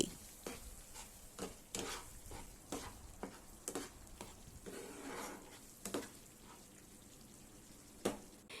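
Spices and dried red chilli powder being stirred and fried in oil in a pan, with soft scraping strokes at an uneven rhythm over a faint steady sizzle, close but quiet, with no talk.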